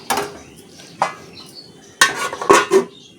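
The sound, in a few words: pot lid and utensils while cooking eggplant fish curry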